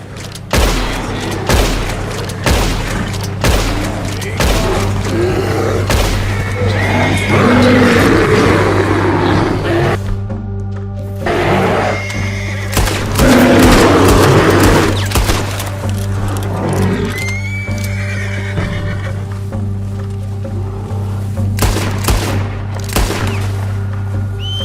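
Gunfire at a bear in Red Dead Redemption 2, a rapid series of sharp loud shots and booms in bursts over a low steady rumble, with brief gaps between volleys.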